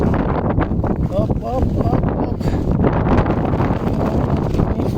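Strong, gusty typhoon wind roars and buffets the microphone continuously, with a voice shouting briefly through the rushing noise.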